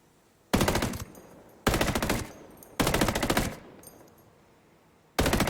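Automatic assault rifle bursts in the shooter game Ghost Recon Breakpoint, four loud rapid-fire volleys spaced about a second apart, close and punchy with brief quiet gaps between them.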